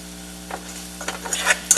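Onions sautéing in a pan on the stove for loaded fries, a soft steady sizzle with a few brief stirring scrapes and clinks of a utensil growing louder toward the end, no talking.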